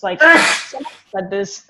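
A single loud, close human sneeze bursts out in the middle of conversation, surrounded by speech before and after.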